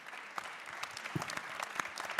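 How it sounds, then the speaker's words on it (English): Sparse, faint applause from a small conference audience thanking panelists, individual claps distinct and scattered rather than a full roar. "Big round of applause for them."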